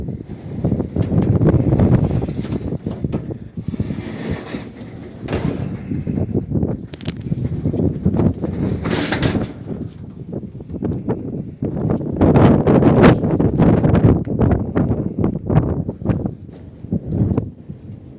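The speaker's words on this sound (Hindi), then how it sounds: "वो बहुत हवा चल रही है, बहुत गंदा हो रही है" Strong wind gusts roar steadily outside a shop in Saudi Arabia, blowing dust, with rustling and rattling bursts throughout, loud and close to the microphone, no talk.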